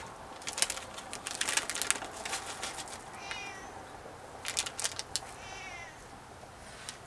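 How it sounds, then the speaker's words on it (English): A neighborhood cat meows repeatedly at a holiday gathering in a home. Several short, plaintive calls come in two bursts over faint background clatter, with no talking. "neighborhood cat trying to come and take part"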